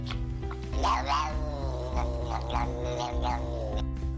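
A cat being scratched near the base of its tail gives odd, drawn-out wavering meows and yowls over a steady low hum, close and fairly clear.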